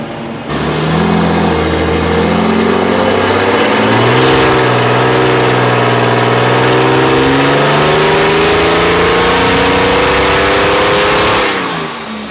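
A turbo diesel Mercedes E320 on a dyno revs up hard and holds a loud, climbing engine note for about ten seconds before cutting off abruptly.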